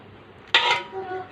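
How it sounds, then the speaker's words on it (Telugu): A metal lid is set onto a pot of chicken biryani with a single sharp, close clank and a brief metallic ring that fades out. "మూత పెట్టేద్దాం."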